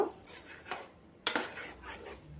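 Mango chutney stirred into a tempering in a pan, a few soft scrapes and a sharp metallic clink of the spoon against the pan, brief and close.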